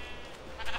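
A sheep bleats in a survival video game, one short, faint, wavering call heard alone.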